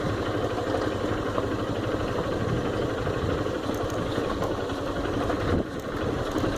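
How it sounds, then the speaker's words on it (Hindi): Off-road motorcycle on a dusty, slippery dirt trail in Rajmachi near Lonawala, a steady close engine drone with a rough rumble that carries on without a break, heard alone. "बाइक स्किड कर रही है।"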